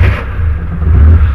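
A Jeep Willys K5 engine turning over on the starter and catching, a loud close rumble with clattering mechanical noise that settles into a low idle.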